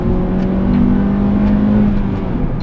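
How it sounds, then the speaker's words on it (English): Honda K24A1 four-cylinder engine running at steady high revs, a loud, continuous, close drone with a strong low hum throughout and no speech. "because it's a Honda, it's happy to rev up and down all the live-long day"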